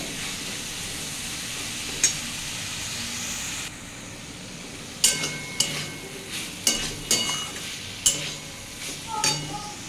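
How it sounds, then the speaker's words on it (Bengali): Cumin and spices sauté in hot oil for a Bengali banana blossom curry, with a steady sizzle underneath. Sharp scraping and stirring clatters from a spatula in the pan come repeatedly in the second half. "এটা ভালো করে কষিয়ে নিতে হবে, নাহলে জিরের গন্ধটা ছাড়বে।"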